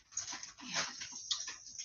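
Dogs whimpering and whining softly in a room, a continuous high, breathy keening with a few brief rises over about two seconds, fairly faint and without talk.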